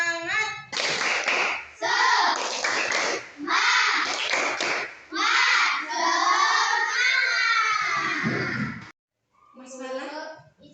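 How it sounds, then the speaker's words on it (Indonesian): A class of schoolchildren performs the 'tepuk semangat' clapping chant, voices shouting the words in rhythm with bursts of clapping, loud and close, in several phrases with a short pause near the end. "tepuk semangat."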